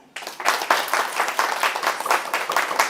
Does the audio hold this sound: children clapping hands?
yes